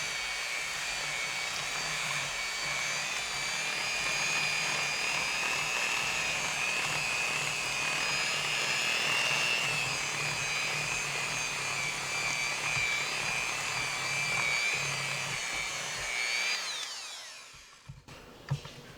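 An electric mixer whirs steadily through cheesecake batter after heavy whipping cream goes in, holding a loud, continuous motor whine that cuts off near the end and is followed by a few light knocks.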